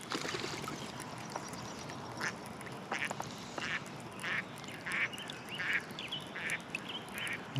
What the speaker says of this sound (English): my friendly ducks.